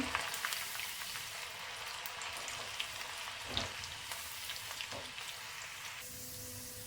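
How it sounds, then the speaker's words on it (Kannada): Garlic cloves fry in a pan for an Andhra-style chicken chutney powder, giving a steady, close crackling sizzle with faint scattered pops throughout. "ಅದನ್ನು ಕೂಡ ಅಷ್ಟೇ ಸ್ವಲ್ಪ ಫ್ರೈ ಮಾಡ್ಕೊಂಡ್ಬಿಡೋಣ"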